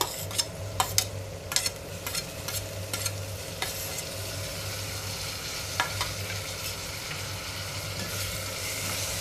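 Onion and tomato frying in a pan, a steady low sizzle throughout with a few scraping stirs of a utensil near the start, close and even, no talk.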